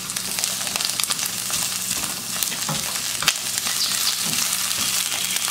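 Halved garlic cloves and onion sautéing in a pan for camarones a la diabla. The sizzle is close and continuous, with sharp clicks and an occasional knock of the utensil.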